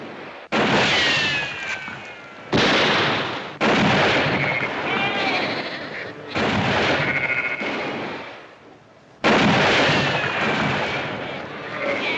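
Gunshots ring out in a western gunfight, a series of about five loud, sharp blasts, each trailing a long echoing decay across open ground, with shouting voices in between.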